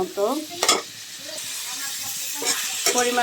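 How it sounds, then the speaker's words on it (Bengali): A batch of sliced onions hits hot oil in a pan, a loud hiss of frying holding steady between bursts of stirring, while someone speaks over it close to the pan. "এবার ওই তেলটার মধ্যে পেঁয়াজ দিলাম কতগুলা"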